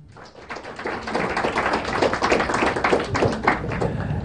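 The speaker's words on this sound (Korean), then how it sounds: "박수 한번 쳐주세요" Classroom applause from students in a lecture hall, a dense, steady patter of many hands clapping together for several seconds, close and fairly loud with no talking over it.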